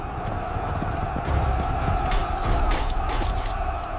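Hooves of a demon horse clip-clop steadily at a walking pace, with a few sharper clatters and a background hum, no speech.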